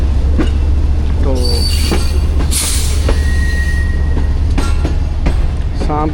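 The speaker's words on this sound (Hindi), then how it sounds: "शाम की तरह बल खाती हुई ट्रेन देखें।" A Pak Business Express passenger train on the Karachi to Lahore line rolls past with a loud, steady rumble, broken by high metallic wheel squeals and clicks from the rails.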